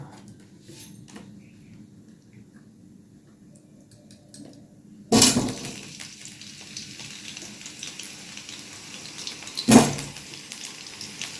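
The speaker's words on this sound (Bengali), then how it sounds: "প্রথমে আলুটা ভেজে নেব।" Potatoes frying in hot oil in a wok for mutton kosha: a loud sizzling burst as they hit the oil, settling into a steady crackling fry, with another sharp spike of spatter near the end.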